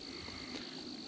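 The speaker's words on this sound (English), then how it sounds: "We've raised a ton of tree frogs in here" Tree frogs croak at a garden pond, a faint steady chorus with insects chirring under it, nobody speaking.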